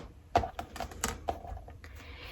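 Scissors trimming fabric during a sewing project, a handful of short crisp snips and clicks spaced irregularly over a couple of seconds, close and fairly quiet, with no talk.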